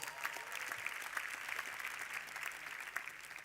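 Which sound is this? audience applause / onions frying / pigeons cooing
audience applause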